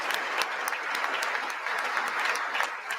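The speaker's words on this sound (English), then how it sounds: "Give a standing ovation for that." Members of Congress give a standing ovation during an address, a continuous wash of many hands clapping that holds at a moderate level for about three seconds without pause.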